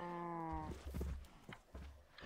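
One low cow moo from the video game Minecraft sounds near and clear, followed by a few soft thuds and steps.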